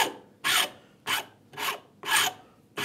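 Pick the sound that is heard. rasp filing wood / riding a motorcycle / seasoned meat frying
rasp filing wood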